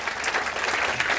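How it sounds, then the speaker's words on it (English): An audience at a science festival talk applauds in a dense, steady burst of clapping that fills the room at close range. "Go on, clap for us, because we deserve it."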